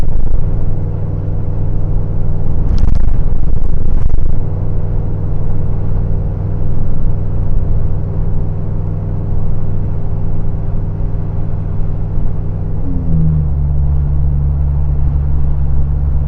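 Steady loud engine drone from a lifted van with bigger tires climbing an incline, holding a low rumble before the pitch drops as the automatic transmission downshifts from overdrive into third gear, with no talk.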